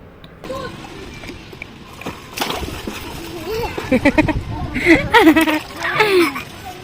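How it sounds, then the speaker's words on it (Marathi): Water splashes and sloshes in bursts as a child plays in a swimming pool, with a small voice chattering and laughing over the splashing. "तर इथे पण तो असाच खेळत होता पाण्यामध्ये"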